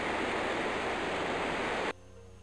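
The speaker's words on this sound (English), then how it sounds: "That waterfall may be the last symbol of life in this" Waterfall in the video game Anvil of Dawn, a steady, dense roar of rushing water that cuts off abruptly near the end, leaving quiet background.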